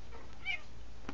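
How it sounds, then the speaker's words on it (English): An indoor house cat lets out one short, faint meow close by, with no one talking over it. "That was my cat."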